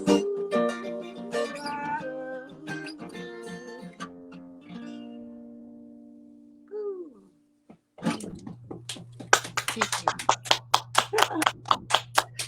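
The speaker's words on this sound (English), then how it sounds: "got some stereo applause there." Sustained musical tones fade out before a brief pause, then a small audience claps in a quick run of crisp claps over a low steady hum, close and fairly loud.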